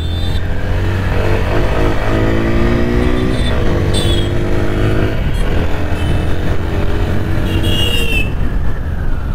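TVS Apache RTR 160 4V motorcycle in sport riding mode, a single-cylinder engine revving up and down through rising and falling pitch sweeps under wind rush, loud and close throughout.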